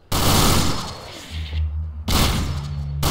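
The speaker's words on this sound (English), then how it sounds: "You're using mortars." Mortar fire in Garry's Mod, two loud booming blasts with long rumbling tails, the second arriving about two seconds after the first, over a low steady drone.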